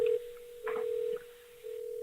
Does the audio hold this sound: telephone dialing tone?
yes